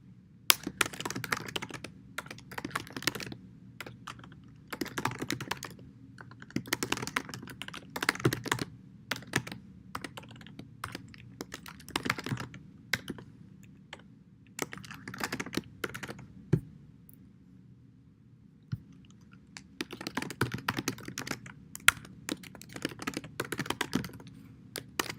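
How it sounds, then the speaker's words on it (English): Rapid bursts of keystrokes on a computer keyboard as C++ code is typed, coming in clusters with short pauses between runs, close and fairly quiet with no talking. "go ahead and type that code out as exactly as you can get it"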